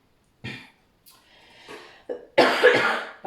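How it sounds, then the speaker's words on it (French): A woman coughs several times in short, close bursts separated by small pauses, ending in a heavier, rougher cough that sounds like she is clearing her throat. "Et je dis ça et je me mets à tousser"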